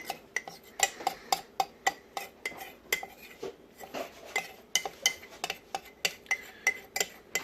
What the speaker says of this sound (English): she's going to try to scoop what she can out of it